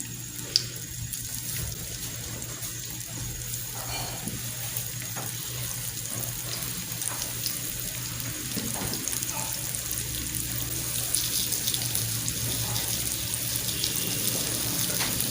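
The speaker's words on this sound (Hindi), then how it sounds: "सबसे पहले तिक्के को फ्राई कर लेते हैं।" Tikka pieces frying in hot ghee over a low flame, a steady loud sizzle and crackle that holds for the whole stretch and grows slightly stronger toward the end, with no talking.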